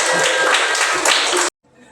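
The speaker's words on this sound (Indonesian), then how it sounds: "Baik, tepuk tangan buat kita semuanya." A classroom of students claps hands together in a dense, steady burst of applause for about a second and a half, then stops abruptly into near silence with only faint room noise.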